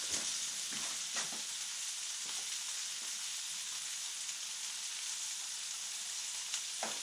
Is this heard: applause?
no